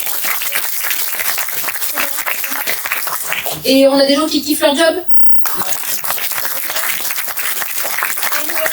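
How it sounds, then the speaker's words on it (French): Applause from a seated audience at a corporate disability-awareness talk, a broad steady crackle of clapping running through most of the clip, broken by a short stretch where someone speaks alone before the clapping returns. "tout le monde a réapplaudi"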